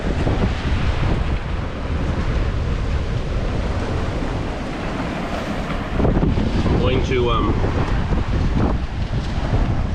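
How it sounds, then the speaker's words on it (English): Energetic ocean waves crash and wash on Prachuap Khiri Khan beach in a constant loud roar, heavily buffeted by wind against the microphone, with a voice briefly speaking partway through. "Looks like waves have attempted to crash over there and get people wet"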